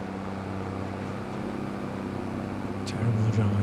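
Farm vehicle engine in Farming Simulator 25 droning steadily as it drives along, a low constant hum that swells slightly louder near the end, with a voice speaking briefly over it.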